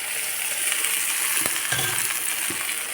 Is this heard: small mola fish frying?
yes